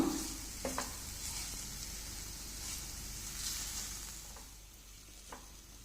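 Sweet potato frying in a pan over a medium flame, a soft steady sizzle with a few scattered stirring taps, faint and close, no voices.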